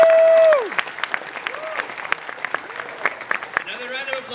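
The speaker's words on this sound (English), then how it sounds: "So give yourselves a round of applause." Convention-hall audience applause rises after a tone cuts off. The clapping is scattered and fairly close, with individual claps standing out, and the crowd's cheering voices mix in.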